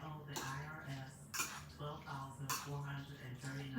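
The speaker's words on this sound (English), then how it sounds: "Mix our vegetables in. I just kind of fold them in." Vegetables are folded into a vegetarian baked spaghetti mixture, with a utensil scraping and clinking on the dish in repeated soft strokes. Close, low-level kitchen sounds continue steadily, with a few brighter knocks and a faint background hum.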